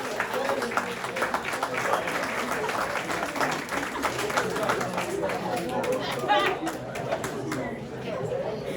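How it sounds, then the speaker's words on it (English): Applause and cheering for medal winners at a school band banquet at Elrod's Ferry, steady clapping mixed with crowd chatter and voices throughout, fairly close and sustained. "Another big round of applause for our medal winners"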